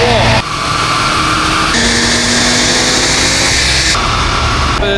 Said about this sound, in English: the RS3 5-cylinder engine, very unique sound